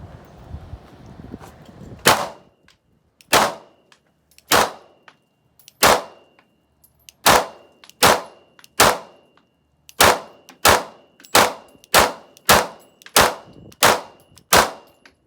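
Sharp pistol shots from an Archon Type B fired at a target, about fourteen separate reports spaced unevenly, some in quick pairs, each with a short ringing decay, following a brief stretch of low rumble.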